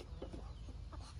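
Ducks and other farmyard fowl give a few faint, scattered clucking calls at a distance over a low background hum, with no talking.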